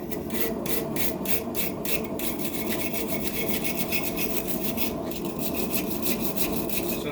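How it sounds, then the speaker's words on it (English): Wire brush scrubbing a hand-forged metal leaf on the ground at a forge, a steady, close rasping scrape with rhythmic strokes that keeps up throughout. "Find a wire brush, if I can. Let's use this one on the ground. Scrub it off really good."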